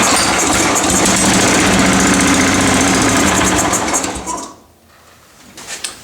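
A Kawasaki FC420V small engine running with a loud, steady, rapid mechanical chatter and vibration close by, then cutting out and winding down to near quiet, with a faint clatter at the end.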